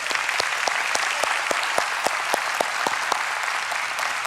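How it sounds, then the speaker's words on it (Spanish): A church congregation applauds the fathers with steady clapping, the individual claps sharp and fairly close, keeping an even pace across the room without any speech. "todos los papás merecen un fuerte aplauso"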